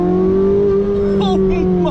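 A Porsche 918 Spyder with a straight-piped V8 accelerating, a loud close engine drone holding steady with brief pitch shifts, while a voice speaks over it.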